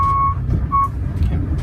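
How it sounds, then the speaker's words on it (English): A buzzer sounds twice in short, steady electronic tones, each about a quarter second long, over a low background rumble. "We're just going to hold on for a second until this buzzer goes off."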